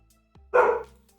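A single short dog bark in a video game, sharp and fairly close, preceded by a faint low thud, with quiet room tone before and after.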